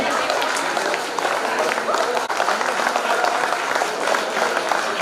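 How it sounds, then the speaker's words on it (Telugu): Dense, steady applause from a large audience at a high school batch silver jubilee reunion get-together, continuous broadband clapping filling the room for the whole stretch without pause. "క్లాప్స్ రావట్లేదు మీ సైడ్ నుంచి. Please clap."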